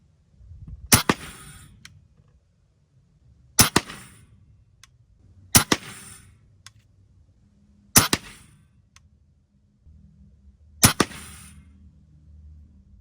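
Five sharp, evenly spaced shots from a Macavity Arms MA2 .25 caliber air rifle fired over a chronograph at 25 yards, each a loud, crisp crack with a short tail, spaced two to three seconds apart with quiet between.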